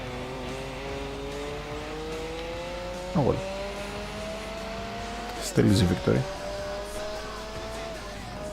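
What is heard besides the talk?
race car driving in video game Gran Turismo 4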